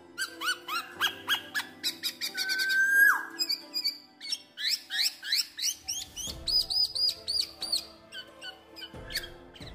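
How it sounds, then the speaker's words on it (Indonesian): Black-naped oriole song at dawn: loud, fluting whistles and chirps repeated in quick rhythmic bursts, clear and close with no voices. "Suara burung kepodang sangat nyaring, dengan suaranya yang mirip dengan suara seruling atau siulan."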